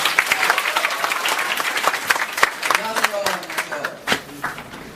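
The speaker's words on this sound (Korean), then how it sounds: "모두 박수로 환영해주세요." Audience applause rising to welcome the next speaker at a lecture event on mobile CPUs, a sustained burst of many hands clapping with some voices mixed in.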